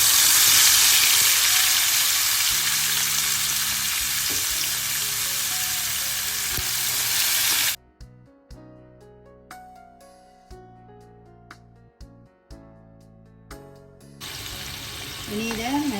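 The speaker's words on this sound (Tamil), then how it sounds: "இதால் இப்போ நான் இந்த இறாலை பொரிச்சு எடுக்க போகிறேன்." Prawns dropped into hot oil in a pan, a loud dense frying hiss that holds for several seconds, then cuts to quieter clinks and knocks before the sizzle returns.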